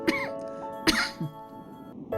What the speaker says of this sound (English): Still that damn cough.